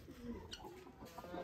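Pet chickens in a backyard coop in India making soft, quiet clucks and low murmurs, with a few short calls over faint background noise and no clear talk.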